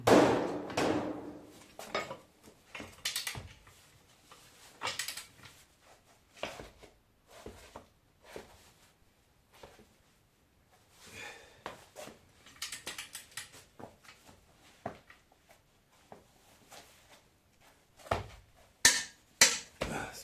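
A budget Grand cordless impact wrench tightens a nut in short bursts of sharp, rattling hammering, separated by pauses and quiet handling clatter, fairly close.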